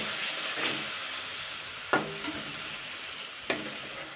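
Masala with tomato ketchup, salt and sugar frying in a pan while being stirred, for a rohu fish mango kasundi curry; a steady soft sizzle runs throughout, broken by a few sharp scrapes and knocks of the spoon against the pan.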